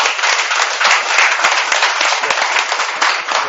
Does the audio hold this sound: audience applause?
yes